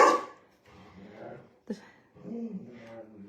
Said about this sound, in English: he will not stop barking until she's passed